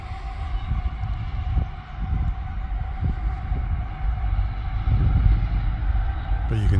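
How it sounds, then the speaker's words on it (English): A train passes along the Sydney to Melbourne main line near an embankment at Murrumburrah, a heavy, steady rumble with a droning tone and irregular clatter that swells louder toward the end. "there's a train coming through"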